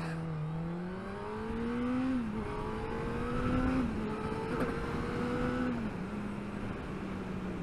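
2022 Honda CB1000R Black Edition motorcycle engine revving while riding on a damp road, rising through several stepped climbs and shifts, a steady loud drone with wind rush.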